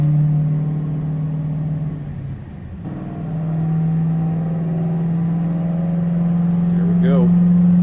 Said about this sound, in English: So he's gonna do a 4th gear pull.